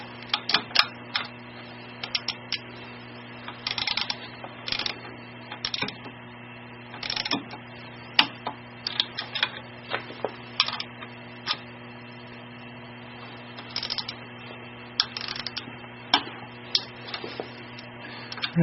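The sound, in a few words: torque wrench clicking while tightening motorcycle bolts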